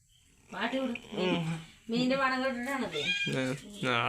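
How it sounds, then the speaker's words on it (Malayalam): A cat meowing at home near a kitchen where fish curry is being made, a series of four or five close, clear meows of rising and falling pitch, heard alone. "പൂച്ച വന്നു."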